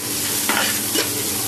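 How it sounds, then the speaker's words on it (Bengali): Chopped onion, green chili and ginger sizzle loudly in hot oil, a dense, even hiss broken by two quick stirring scrapes. "তেল গরম হয়ে গেছে, এখানে এখন দিয়ে দিব পেঁয়াজ কুচি, তারপর দিব কাঁচা মরিচ কুচি, আর দিয়ে দিচ্ছি কিছু আদা।"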